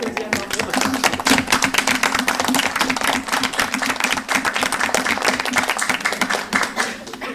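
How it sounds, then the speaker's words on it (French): Audience applause at a municipal council meeting, a close, loud, steady stretch of many hands clapping with a faint voice humming beneath it. "On peut applaudir."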